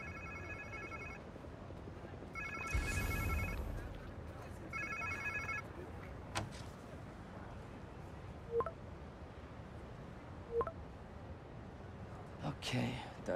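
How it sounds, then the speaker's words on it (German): A mobile phone in the video game Marvel's Spider-Man 2 rings in repeated electronic bursts, three spaced trills with gaps between, followed by faint clicks and soft game-like sound effects. "Klingt wie irgendein Handy."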